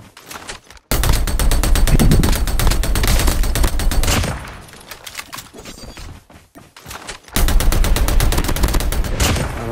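Video game gunfire from a Man-O-War rifle loaded with thermite ammo in a battle royale match, with dense loud bursts of rapid shots, a quieter stretch in the middle, then another heavy burst, no talking.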